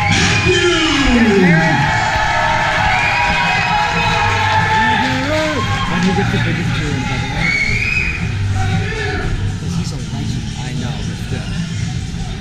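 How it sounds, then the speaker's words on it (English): A crowd at a National Ninja League competition cheers, whoops and yells for third-place finisher Derek Matthews. The noise is loud and sustained, with voices shouting over it throughout. "Everyone, please give a warm round of applause for Bugman, Derek Matthews."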